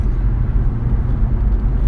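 A car driving at speed over a bridge, heard as a steady, loud low road rumble and engine drone with no pauses.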